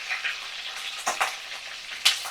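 Giant freshwater prawns, skewered on sticks, fry in hot oil in a pan: a continuous close sizzle with a few sharp crackles and spatters, and a soft scrape of stirring now and then, without any talk.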